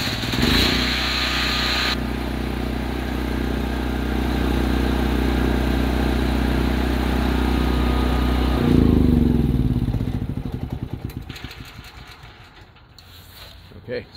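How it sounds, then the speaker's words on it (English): A FIRMAN portable generator, started by remote, runs with a loud steady engine drone for several seconds, then winds down and sputters toward a quieter, uneven tail. "So, I'm in front of the generator. I'll press A."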